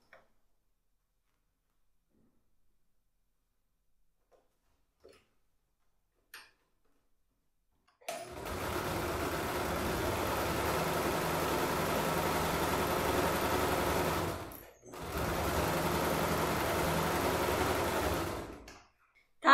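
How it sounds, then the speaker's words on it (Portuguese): A sewing machine stitches along a marked line to close the lining of a basic fabric toiletry bag, running steadily in two long bursts with a brief pause between them, near and alone after a quiet start. "volta a costurar bem ali onde a gente fez a marcação para fechar o forro"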